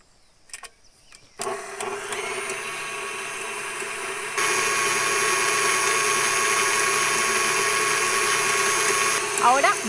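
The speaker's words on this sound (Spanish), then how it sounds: "en el tazón limpio vamos a batir las yemas" An electric mixer whirs steadily as it beats egg yolks in a clean bowl for a gluten-free citrus cake, starting after a few faint knocks, then rising to a louder constant drone.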